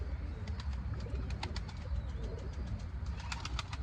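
Racing pigeons coo in a loft, soft repeated low calls over a rumbling background, with occasional faint wing flaps and chirps, no voices.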